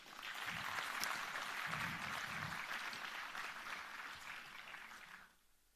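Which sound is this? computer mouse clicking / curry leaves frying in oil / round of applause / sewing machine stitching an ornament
round of applause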